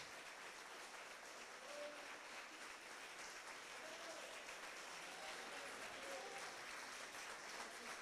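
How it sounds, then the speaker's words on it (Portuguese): A church congregation at an evangelical congress applauds in a steady, uniform wash of clapping. It sounds distant and fairly faint, with a few brief voices or tones rising above it. "Se coloque em pé, aplauda ao Senhor, glorifique ao Senhor."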